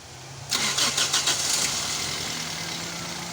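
A Toyota Corolla engine, after a fix for a metallic rattling noise, cranks with several rapid stutters, then catches and settles into a steady idle, close and fairly loud.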